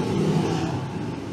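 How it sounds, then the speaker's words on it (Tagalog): A car engine runs after a service and oil change at 5,000 km, a steady, fairly loud mid-range rumble with a slight rising rev, close by and with no voices. "Binuksan na po yung machine. Yung makina para matry."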